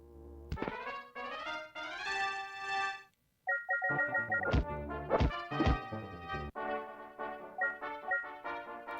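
An exploding box trap triggering in the Wizardry video game, heard as a chiming tonal game jingle that breaks off briefly, then resumes with thumping hits and bright tones, with no talk.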